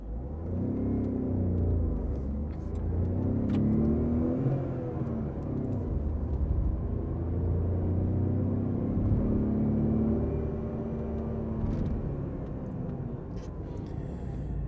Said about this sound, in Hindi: engine gets very vocal after 4000 RPM